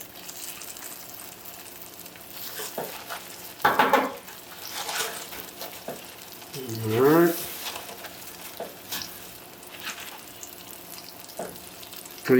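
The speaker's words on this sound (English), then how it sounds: "So just a little bit of sizzle." Salmon and shrimp seafood cakes fry in olive oil in a pan, a soft steady sizzle with a few louder bursts as cakes are set down and moved, while a person speaks briefly.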